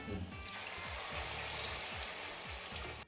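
Chicken leg pieces frying in a pan give a steady, close crackling sizzle with faint bubbling throughout, ending in a brief clatter.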